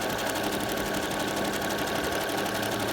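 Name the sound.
sewing machine sewing stacked ribbons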